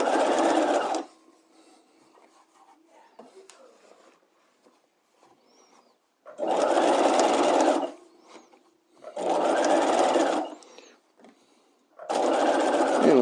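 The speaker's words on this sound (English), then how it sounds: "I'm going to go ahead and back tack this up there." A sewing machine back tacks a neckline facing, running in four loud bursts of buzzing stitching with quiet gaps between them.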